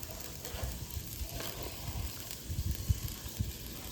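Fresh blueberry pancakes frying in a pan, a low steady sizzle with soft bubbling pops and a light flip, quiet and close.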